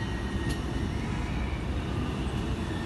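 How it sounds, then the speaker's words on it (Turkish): A tram arrives in an outdoor city square with a steady, broadband rumble of rail noise and a brief sharp squeal early on. No talk is heard over it. "Tramvayınız da geliyor arkadaşlar."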